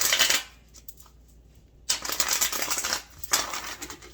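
Tarot cards are handled and shuffled, with bursts of crisp riffling and scraping near the microphone, a quieter pause in between, and no speech.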